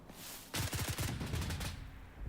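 A FAMAS rifle fires one rapid burst in the BRM5 video game, a fast run of dense cracks lasting about a second that sits over a steady background hum, with no talk.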